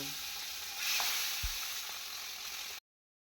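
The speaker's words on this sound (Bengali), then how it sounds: "বাকি মাছগুলো এইভাবেই ভেজে নেব" Pieces of rohu fish frying lightly in oil, a soft continuous sizzle heard close by with a brief clunk partway through before it cuts off.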